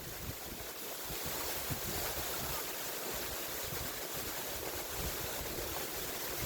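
Heavy rain and strong wind during a storm, a steady broad rushing hiss with gusty swells, fairly faint and continuous, with no voices.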